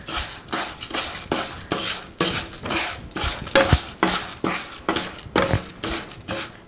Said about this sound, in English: And then just saute this up in the butter.